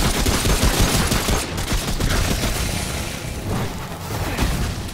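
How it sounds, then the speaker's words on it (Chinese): Explosions and rapid gunfire from the video game Remnant: From the Ashes, a dense, loud, continuous barrage of booms and shots during a boss fight, with no pause across the stretch. "有炸弹"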